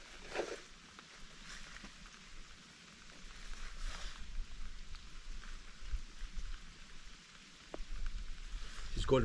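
Steady rain blowing in across open country in Weardale, a soft continuous hiss of drops hitting surfaces with a few brief nearby rustles and patters, fairly quiet throughout.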